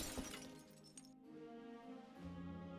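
In the Deponia Doomsday video game, birds fly into stained glass windows and the glass shatters. Quiet, brief crashes of breaking glass sit over soft, sustained tones.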